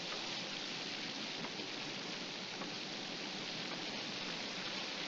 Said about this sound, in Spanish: La lluvia.